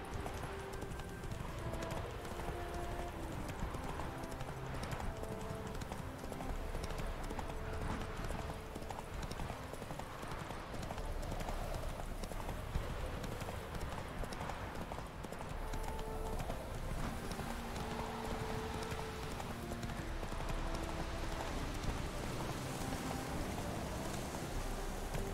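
Roach the horse's hoofbeats in The Witcher 3, a steady clip-clop of hooves running continuously over game music and ambient noise, with no pause across the stretch.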